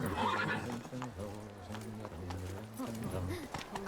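In The Witcher video game, Geralt's horse Roach neighs and its hooves clip-clop at a steady walk. A voice also speaks over the hoofbeats and horse sounds.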